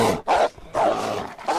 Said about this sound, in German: Wolf hinter dir.